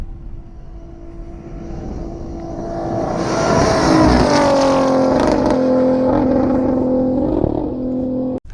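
Dakar Rally cars screaming along a long desert straight on the rev limiter, a distant engine drone that swells loud as they pass at around 170 km/h, holding a high buzzing pitch before an abrupt cutoff.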